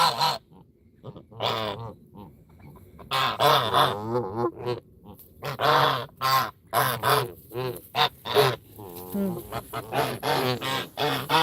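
A pet goose honks repeatedly up close in loud, nasal bursts, with other geese calling among them and short pauses between the runs of honks.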